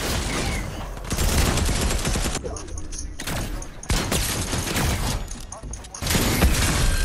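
Rapid bursts of SMG fire in a shooter video game crackle loudly in dense, sustained volleys with brief pauses, and excited voices sound over the gunfire.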